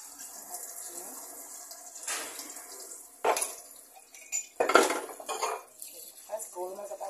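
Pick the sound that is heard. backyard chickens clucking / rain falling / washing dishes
washing dishes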